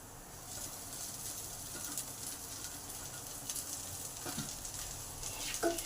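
Sushni greens fry in a pan with poppy seeds and onion, giving a steady, close hiss of sizzling with faint stirring scrapes now and then.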